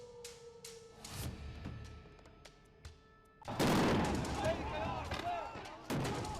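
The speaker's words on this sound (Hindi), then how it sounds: "उन्हें खदेड़ने के लिए गोलियां चलाई जा रही हैं।" Gunfire recorded in news footage from Iraq, where shots are fired to drive off militia groups near a US base: sharp, repeated cracks and bursts, with heavier volleys midway, mixed with shouting voices and crowd noise.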